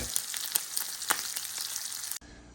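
Sausage and mushrooms sizzle steadily in a hot pan, crackling with sharp spatter pops, before the sound cuts off abruptly near the end.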